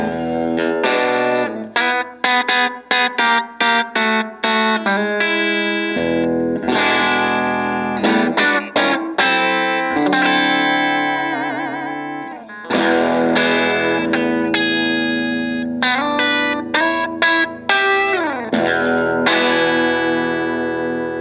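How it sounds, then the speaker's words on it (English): A 1970 black Fender Stratocaster in the bridge pickup position gives a bright, trebly tone, heard as a continuous run of picked notes and chords with brief pauses, loud and close with no talking. "this is a straight up treble kind of sound here in that bridge position."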